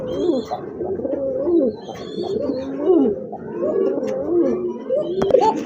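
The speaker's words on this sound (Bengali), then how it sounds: "কোকা কবুতর খুব ভালো ডাকে কিন্তু নটটা, যদি একটু ডাকছে এখন" Koka pigeons cooing close by, a run of repeated throaty rolling coos one after another with no talk.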